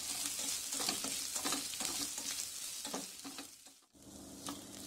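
Chopped okra sautés in a pan with a dense, continuous sizzle broken by repeated stirring scrapes and clatter, then briefly drops away before the frying sound returns.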